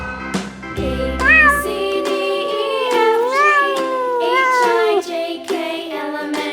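A cat meows in a long series of drawn-out, rising and falling cries, loud and close, over a soft musical background.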